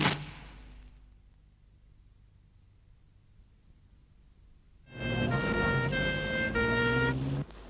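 An ambulance siren starts up partway through after a quiet stretch, loud and close, with strong wailing harmonic tones that rise and hold for the last few seconds.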